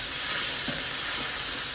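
Onions frying in a pot for spaghetti sauce give off a steady, dense sizzle that holds evenly through the moment with no voices.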